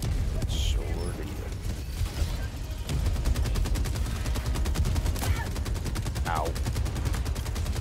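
Rapid bursts of gunfire in the Helldivers 2 video game, fighting Automatons on Dagobah, ring out as repeated loud cracks and rattling volleys, with a brief player voice between shots.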